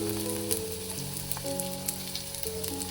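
Green chillies sizzle in hot oil in a pan for a fish-head curry, a steady crackling fry with faint stirring taps and no voices.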